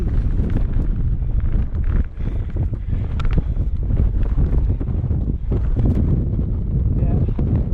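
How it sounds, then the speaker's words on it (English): Strong wind roaring across the East Peak of Y Lliwedd in high winds, buffeting the microphone loudly and continuously in low rumbling gusts. "Oh my god, the wind."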